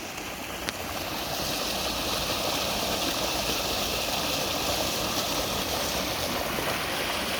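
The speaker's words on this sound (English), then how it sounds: "I finally made it to the waterfall." A winter waterfall and a hard-running stream churn through snowy woods, making a loud, steady roar that holds unbroken from start to finish with no voices.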